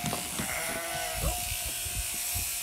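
Electric shears buzz through a sheep's fleece during shearing at a pasture farm, with a steady motor hum and short bursts of cutting and handling noise close by.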